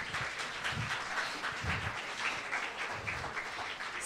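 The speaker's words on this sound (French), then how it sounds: "On l'applaudit." An audience at a climate action evening talk applauds the speaker, with steady moderate clapping and some low murmuring throughout the room.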